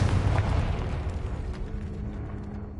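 A Confringo fire spell blast in Hogwarts Legacy erupts loudly at the start, a dense low rumbling boom that lingers as a broad, slowly fading roar over a few seconds, with no talking.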